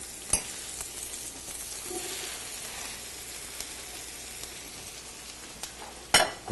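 Eggplant and onion sautéing with thyme in a pan, giving a steady soft sizzle throughout, with a few light clinks and a louder utensil clatter near the end.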